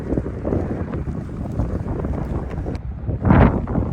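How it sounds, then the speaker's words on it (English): Strong wind gusting across the microphone on a mountain road walk down into Hot Springs along the Colorado Trail, a continuous loud buffeting roar that surges briefly near the end. "Hopefully you can hear this through the wind"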